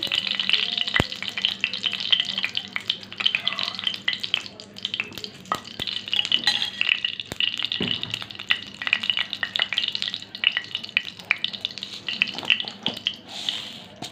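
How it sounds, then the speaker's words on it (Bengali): Steady, crackling sizzle of fenugreek seeds frying in hot oil in a wok, with occasional sharp pops and a faint scrape of stirring throughout. "আর ফোড়নে দিচ্ছি আমি মেথি ফোড়ন"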